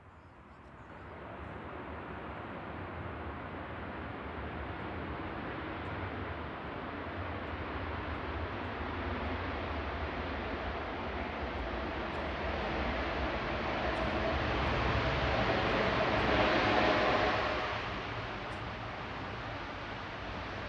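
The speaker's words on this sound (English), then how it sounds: "Qatar Flight 23 from Doha, A7BHV, 787-9 Dreamliner touchdown." A Qatar Airways Boeing 787-9 Dreamliner touches down at Manchester Airport, a broad, moderately distant rushing roar that swells gradually, peaks near the end, then eases back slightly.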